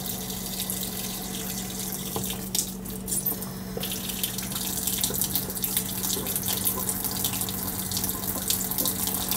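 A faucet running with weak, low water flow even without its aerator, a steady close splashing hiss into a sink that briefly dips and then swells louder, with no voices.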